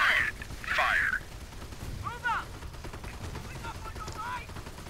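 Tank and small-arms gunfire in the Company of Heroes video game, with a couple of loud crackling bursts and softer mechanical shots, and a voice talking over the battle.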